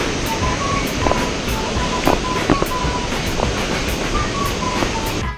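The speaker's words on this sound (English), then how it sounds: "Look at this waterfall." A Costa Rican waterfall on a hike roars as a steady, dense rush of falling water, loud and close, filling the whole stretch without a break.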